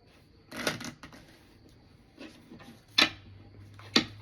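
Small tarot cards being shuffled by hand, a few short riffling bursts and snaps separated by quiet pauses, close and soft.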